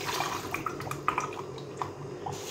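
Water poured into a jamun juice mix of lemon juice, black salt, sugar and ice cubes, a soft steady trickle with scattered drips and small splashes, close and fairly quiet.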